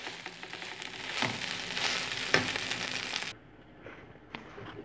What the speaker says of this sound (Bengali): চুলায় নাড়াচাড়া করতেই থাকবো যাতে নিচটা লেগে না যায়